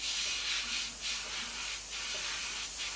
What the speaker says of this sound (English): we just spray it up.